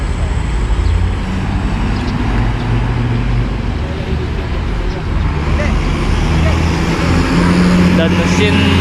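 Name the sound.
Hyundai Prima bus with Jetbus HD2 body passing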